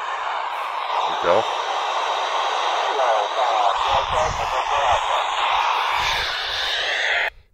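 Amateur radio voice traffic relayed through the SO-50 satellite and received on a Kenwood TH-D72 handheld with a signal stick antenna: hissy, static-laden speech throughout that cuts off abruptly at the end.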